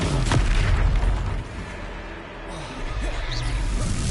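A Confringo blasting spell in the video game Hogwarts Legacy bursts in a deep, rumbling explosion, which settles into a quieter low roar before more distant crackling impacts.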